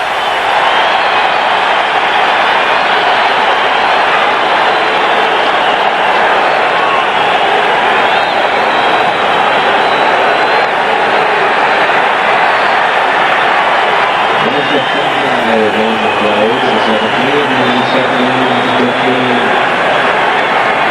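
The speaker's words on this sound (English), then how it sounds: "The crowd is obviously into it." A crowd roars steadily and loudly at a 1988 NFL football game, Chicago at New England, filling the whole stretch with a faint voice rising briefly near the end.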